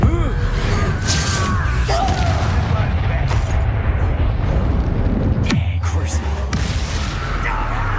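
Confringo blasting spells and combat in Hogwarts Legacy, with repeated loud booms, crackling bursts and sharp impacts layered over a dense battle din for eight seconds. Voices are heard at times.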